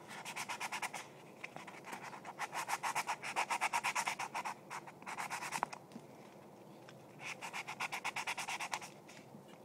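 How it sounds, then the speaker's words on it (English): Sandpaper rubbed against a Nerf Secret Strike blaster to take off black marks, in quick rhythmic scratchy strokes that come in bursts of several seconds with short pauses between, close and fairly soft. "You want to sand it a little more."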